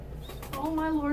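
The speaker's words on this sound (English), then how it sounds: "Oh, my lord, birds." Pigeons coo close by, a short soft cooing call rising out of light background noise with a faint flutter.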